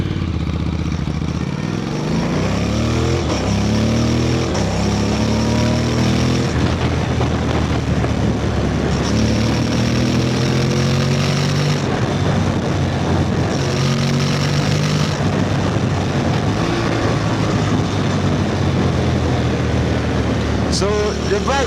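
Honda NC750X 750cc motorcycle ridden in sport mode on Lagos roads, the engine droning through rising and falling pitch sweeps as it accelerates and shifts, under heavy wind rush and traffic noise.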